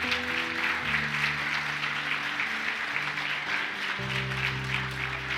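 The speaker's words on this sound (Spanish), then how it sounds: "Aplauda al Señor, apláudalo." Church congregation applauding during a service, a continuous wash of clapping over a sustained organ or keyboard chord that shifts pitch partway through.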